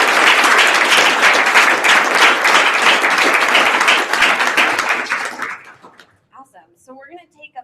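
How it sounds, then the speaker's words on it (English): Graduation audience at a coding bootcamp ceremony applauding loudly and densely for about five seconds, then the clapping dies away into a few scattered claps and faint murmurs. "So, round of applause for everyone who did that."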